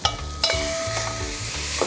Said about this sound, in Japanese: 次は肉を炒めます。